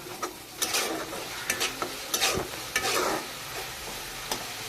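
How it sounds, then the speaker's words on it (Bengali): Onion and ginger with cumin powder and chilli powder stirred in hot oil in a pan, with a close steady sizzle under repeated scraping spatula strokes at an uneven rhythm; no one talks. "এই শুকনো উপকরণ দিয়ে ভালো করে আবারও নেড়ে নিচ্ছি।"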